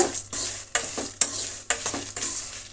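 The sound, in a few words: spice ingredients dry-frying on low flame for bisi bele bath powder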